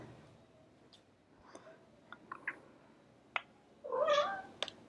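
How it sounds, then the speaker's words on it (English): Young cats meowing while waiting for papaya, several short, faint mews scattered through a quiet room, ending in one louder, longer meow. "So they're going to meow for a while because they obviously have figured it out"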